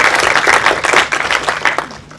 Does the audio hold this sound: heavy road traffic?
no